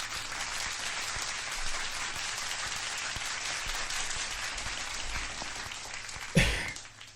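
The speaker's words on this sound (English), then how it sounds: "I want you to give a big round of applause and a warm welcome for Hella Mark Harley." Applause from a crowd, a dense, even crackle of clapping that fades, with a sudden thump near the end.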